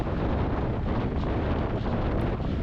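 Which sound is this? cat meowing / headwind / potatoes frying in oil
headwind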